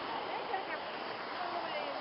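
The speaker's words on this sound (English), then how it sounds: "Waves are coming up over their knees." Ocean waves washing up on a beach, a broad continuous rush of surf with a soft swelling wash, steady and fairly loud, with people talking faintly underneath.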